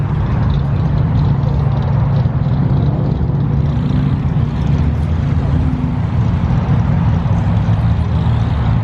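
Cars pull away from a busy car meet, a heavy low engine rumble and road noise running continuously and loud, with faint voices in the background.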